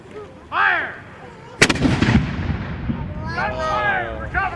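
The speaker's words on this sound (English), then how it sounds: "Fire!" Historical artillery cannon fires during a Williamsburg demonstration: a single sharp, loud blast with rolling rumble, preceded and followed by shouted commands and crowd voices in an open outdoor setting.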